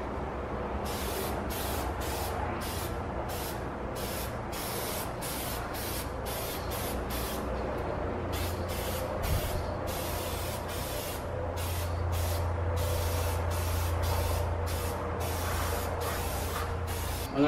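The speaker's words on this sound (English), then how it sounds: "We're gonna give this a good spray here." Rapid bursts of spray paint hiss onto a car being refinished near a tire, sounding as a long run of short, close, loud pulses with steady gaps over a constant low background hum.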